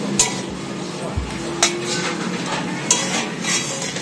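Fresh garden taro greens cooking with shrimp and coconut in a pan, stirred with a utensil that clinks against the pan about every second or so over a steady sizzling background, close and loud.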